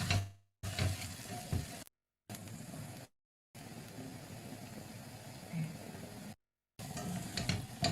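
Onions frying in a pan give a soft, steady sizzle with faint stirring, quiet and close, broken by several short cuts to silence.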